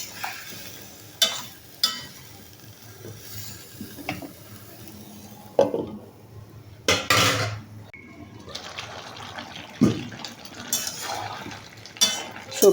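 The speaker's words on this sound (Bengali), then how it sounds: "এখন ভালোভাবে নেড়েচেড়ে ঢাকনা দিয়ে ঢেকে দিব।" Vegetables are stirred in a pot and the lid is set on, giving irregular metal scrapes and knocks over a soft sizzle. Two louder clatters sit around the middle, followed by lighter stirring and a final clank.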